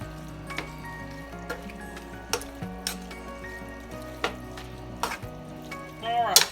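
Green chilies being stirred into a taco rice mixture in a pot, a spoon scraping and knocking in irregular strokes over a low simmer, fairly close, with a brief squeak near the end.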